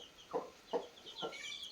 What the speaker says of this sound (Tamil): இது இடவெட்டு பெட்டை